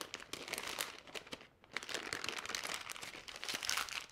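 A paper bag folded open by hand, heard as close, quiet crinkling and crumpling with a short pause partway through and no speech.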